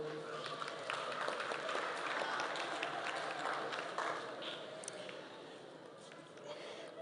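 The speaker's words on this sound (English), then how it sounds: "Congratulations, let us applaud them." Diploma graduates at a Kenya Institute of Development Studies graduation are greeted by audience applause, a fairly faint, diffuse patter of clapping that fades slightly toward the end.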